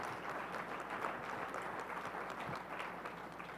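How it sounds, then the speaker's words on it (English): A quiet, distant round of applause from an audience for a panel on Dutch Caribbean digital institutions and collections, a soft continuous patter over room hum. "give them a round of applause"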